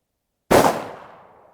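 A single sharp, loud gunshot from a Smith and Wesson 629 .44 Magnum revolver fired one-handed at an outdoor range, with a sudden crack and a decaying reverberant tail after silence.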